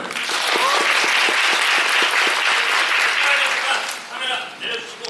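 Steady applause from an audience at a fan concert photo session, loud and sustained for several seconds before thinning out into scattered claps and faint voices.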